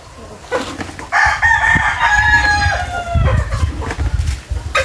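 A loud rooster crows nearby, a long drawn-out call, while hens cluck around it before and after.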